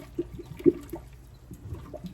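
A few soft splashes and plops as beets drop into cold water, faint and close, with light trickling between.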